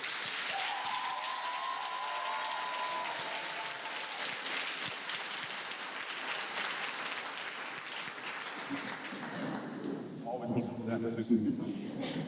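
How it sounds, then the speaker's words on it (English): Audience applause at a Georgia Department of Juvenile Justice gathering, a steady broad clatter of many hands lasting throughout, with voices and a brief musical tone mixed in toward the end. "applaud your fellow believers for the work that they do"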